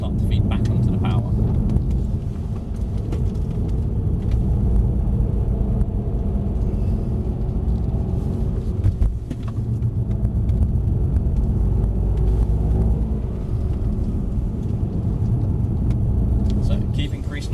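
A Mercedes C63s AMG on track gives off a steady low engine rumble as it accelerates, fairly loud and continuous, with an instructor's voice talking over it.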